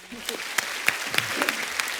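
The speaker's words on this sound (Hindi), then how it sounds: "इनके लिए जोरदार ताली हो जाए यार।" Scattered handclaps ring out, a sparse round of applause with several sharp claps over a soft, murmuring background.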